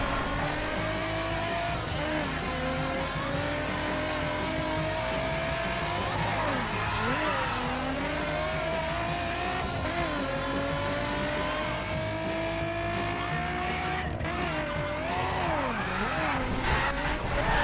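A car in The Crew on PS4 drifts with the handbrake pulled, engine revving in rising and falling pitch while tires squeal in long sliding wails, steady and close throughout.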